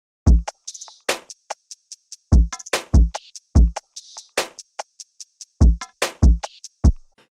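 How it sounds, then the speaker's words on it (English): Drum beat built from recorded hits on plates, programmed for a food-sound remake of a pop song: sharp, punchy thumps and bright clinking hits in a steady rhythmic groove, close and dry, with short silences between hits. "And altogether, the drums sound like this."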